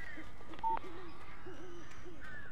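Birds call in the Alan Wake video game, with hooting, owl-like notes and thin whistles spread over a steady background hum, faint and some distance away.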